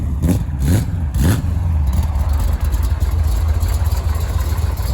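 Stroker small-block Corvette engine running nearby, loud and steady with a few sharp revs at the start, then settling into a rough, throaty idle.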